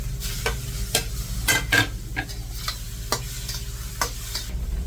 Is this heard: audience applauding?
no